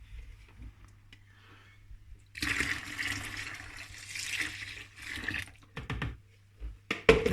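Water poured from a container into a brewing vessel while making beer at home, a steady rushing pour lasting a few seconds, then trailing off into drips and small splashes, fairly close and moderately loud.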